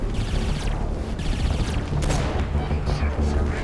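Rapid gunfire from the Saints Row IV video game, loud bursts of repeated shots with booming impacts and crashes layered over a busy, rumbling background.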